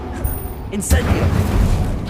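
Incendio fire spell cast in the video game Hogwarts Legacy, a sudden deep whooshing boom followed by a rumbling, crackling roar of flame lasting over a second, with a voice heard beneath.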